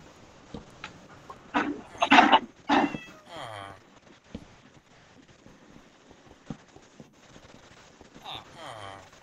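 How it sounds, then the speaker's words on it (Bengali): Cats meowing in the Minecraft video game, several short mews in a cluster early on and another pair near the end, with game sounds and scattered background voices between them. "Islam gonna find a lot of cats over here, so this is for you."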